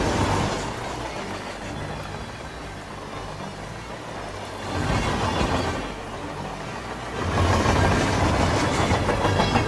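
A train rolls steadily along in Hitman 3, a low rumbling rattle with rhythmic clacking that swells louder around the middle and again near the end, with no talk.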